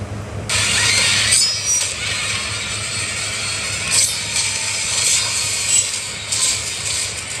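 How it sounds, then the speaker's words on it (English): A bread slicer and meat grinder machine running in a horror film scene, a loud continuous harsh grinding and whirring with rough mechanical scraping surges, heard close and without speech. "The bread slicer / meat grinder."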